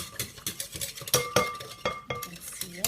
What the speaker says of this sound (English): I mix it up with my handy little bread whisk that I just love